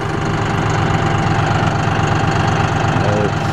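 Diesel engine of a 55-horsepower John Deere 5045E tractor idling steadily nearby at a farm, a constant low rumble with a faint whine, while someone talks over it.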